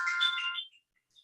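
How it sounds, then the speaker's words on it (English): A phone alarm reminder rings alone with a bright, electronic multi-tone chime for about half a second, then cuts off, leaving near silence and a faint blip at the end. "That's my alarm reminder that we're 5 minutes out to the end of this"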